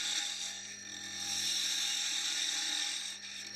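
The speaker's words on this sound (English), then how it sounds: "turn the finial on the lid with a spindle gouge" Wood lathe spinning while a spindle gouge shapes a finial on a turned lid, a steady close whirring hum with a bright scraping hiss of cutting held continuously.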